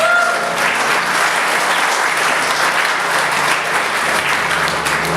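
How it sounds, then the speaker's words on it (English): Audience applause for a volunteer brought up on stage at a magic show, a dense, steady wash of clapping from a full crowd that holds loud and even throughout with no voices over it. "Let's give her a big round of applause"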